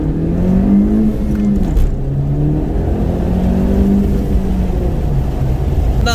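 A car engine revs steadily during a full-throttle acceleration pull, a droning mid-pitched tone climbing and dropping at a gear change, heard from inside the car with constant road rumble and no talk.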